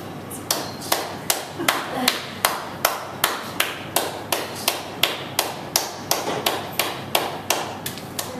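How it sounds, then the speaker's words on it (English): A group of parents in a classroom session clap their hands in a steady, evenly spaced rhythm, each clap crisp and moderately close, continuing throughout without talk. "please clap for 30 seconds"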